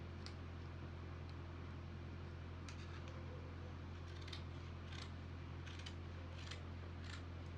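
Scissors snip out a paper pattern for a boxy crop top in a series of faint, crisp cuts over a steady low background hum.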